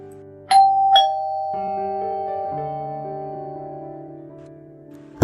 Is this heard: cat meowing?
no